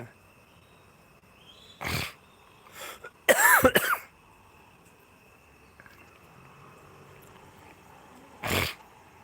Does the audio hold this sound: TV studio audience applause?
no